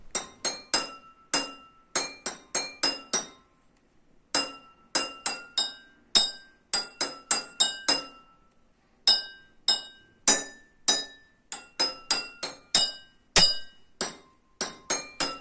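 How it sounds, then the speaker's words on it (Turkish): Household kitchen glasses and containers tuned to musical notes are struck in quick rhythmic phrases. Bright, ringing clinks come in clusters separated by short silences, each one crisp and close with a brief decaying tone. "Akort cihazının yardımı ile ihtiyaç duyduğumuz notaları evimizdeki çeşitli kapları kullanarak çıkartabiliriz."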